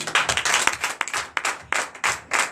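A congregation at a Sunday worship service in Comè, Benin, claps in acclamation, a dense, uneven burst of many hands with sharp accents and brief dips.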